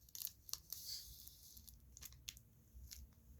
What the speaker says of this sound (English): Now I'm cutting this very carefully with the scissors, just right on the edge here.